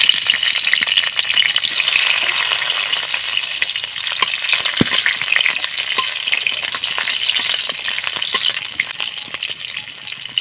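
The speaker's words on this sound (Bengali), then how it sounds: "গরম হয়ে গেছে, আমি এবারে একটা মশলা তেলের মধ্যে দিয়ে দেবো। এই যে আমি কাঁচা লঙ্কার কুচিগুলো দিয়ে দিলাম।" Chopped green chillies hit hot oil, a loud, dense crackling sizzle that spits and pops steadily throughout, close up with no voices.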